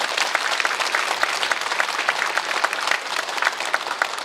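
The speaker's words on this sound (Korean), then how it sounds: "우리 모두 다 주님께 영광의 박수 드리겠습니다" A church congregation at a Korean prayer meeting claps together in praise, a dense, loud, sustained round of applause from many people filling the room with no break.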